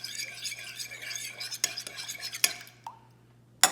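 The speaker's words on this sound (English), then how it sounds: "we're going to stir it together" A spoon stirs bubble mix in a container, scraping and clinking close up in a brisk run, then a few separate sharp taps against the rim with quieter pauses between.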